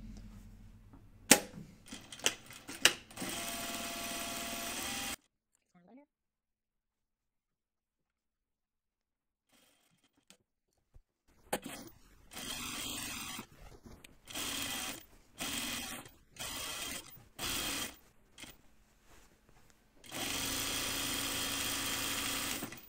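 A sewing machine runs a perimeter edge stitch on an unlined Wiksten Unfolding Jacket, with short rapid stitching bursts, a long quiet pause, then stop-start runs and a final steady stretch, close and clear.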